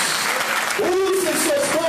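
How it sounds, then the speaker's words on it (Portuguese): Church congregation clapping hands in worship, a continuous patter of many hands under a voice that rises and slides in a sung or chanted exclamation. "aplaudir ao Senhor nessa hora. Bem forte."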